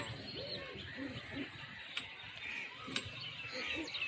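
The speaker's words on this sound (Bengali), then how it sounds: "পায়রা বসে পড়েছে, চারটা লড়াবো।" Pigeons landing and cooing, soft repeated low coos in a loose rhythm at moderate distance, with a couple of sharp clicks or wing taps and faint background noise.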